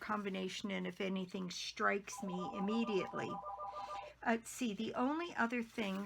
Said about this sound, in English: pardon the phone ringing there